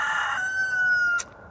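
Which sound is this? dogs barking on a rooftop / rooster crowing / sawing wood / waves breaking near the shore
rooster crowing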